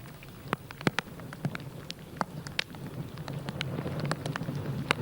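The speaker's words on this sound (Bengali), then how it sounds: "বৃষ্টি অব্যাহতভাবে বৃষ্টি ঝরছে পাহাড়ে।" Steady rain falls over the hills of Khagrachari, a soft continuous patter with scattered sharper drips and splashes, fairly faint and growing slightly denser toward the end, with no voices.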